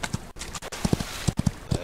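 Horse hooves clip-clop in a rhythmic run of sharp, evenly spaced taps in the Western video game Outlaws of the Old West, fairly close and clear with no voices over them.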